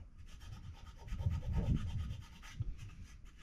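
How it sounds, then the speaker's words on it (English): A natural aluminum timing cover on a Foxbody engine being rubbed by hand to remove paint overspray, a close, continuous scrubbing swish that swells and fades in strokes. "I'm just getting some of the overspray off now."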